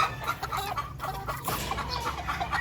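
A backyard flock of roosters, with a couple of hens, clucks in scattered short bursts at close to middle distance, the calls overlapping against a faint outdoor ambience.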